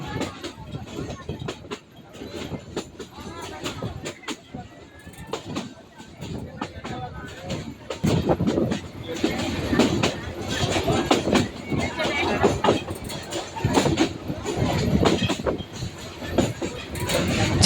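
A train rumbles steadily along the tracks with rhythmic clattering, the rolling noise growing louder and fuller partway through, passing tea gardens and hills in Moulvibazar, Bangladesh.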